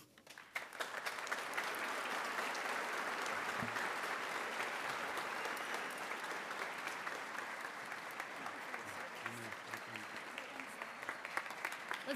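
A school audience at a Veterans Day program applauds a veteran guest, a steady, full wash of clapping from a large crowd that holds for about twelve seconds at a low, distant level.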